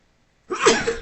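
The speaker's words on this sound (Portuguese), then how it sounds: "essa pausa toda foi para poder espirrar" One sudden, forceful sneeze bursts out close to the microphone after a moment of silence.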